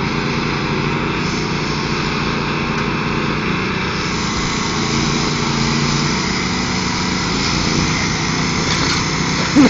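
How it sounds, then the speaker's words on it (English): Tractor engine roaring at a tractor pull right beside a backyard fence, a loud, steady, unbroken drone with a constant pitch for the whole stretch and no voices over it. "Yeah, it's a tractor pull, but Tracy's already won the tug of war part"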